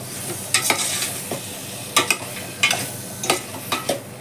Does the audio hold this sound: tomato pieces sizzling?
yes